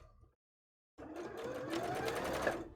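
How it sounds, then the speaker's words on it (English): A sewing machine stitches a jellyfish bra, starting after a moment of silence and then running steadily and close for a couple of seconds with a bright, busy whir. "let's sew it like this"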